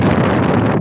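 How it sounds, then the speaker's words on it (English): Strong wind buffeting a microphone while riding an e-scooter against a headwind at speed, a loud, dense roar filling the whole moment with no voice. "you're probably hearing the wind because it is windy"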